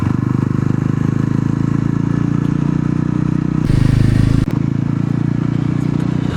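A Yezdi Roadster motorcycle rides along a mountain road, its engine a loud steady rumble with wind buffeting, a brief surge of roar near the middle and a sharp clack just after.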